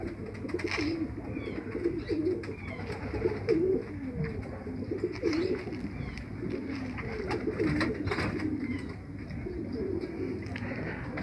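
Bajre (feeka baajra) pigeons cooing nearby in a loft, low rolling coos repeating steadily over background noise, with no speech.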